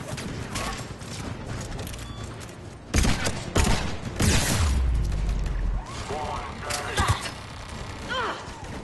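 Turret fire and booming explosions rattle through a Mass Effect 3 battle, with bursts of rapid gunfire and heavy blasts in the middle, while a player talks over the game audio.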